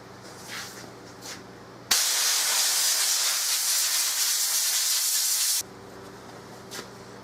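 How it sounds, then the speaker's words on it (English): Compressed air blasts grime out of Remington 700 rifle parts and trigger group, a single loud, steady hiss lasting several seconds, close by, between quieter background noise. "compressed air really blows it out"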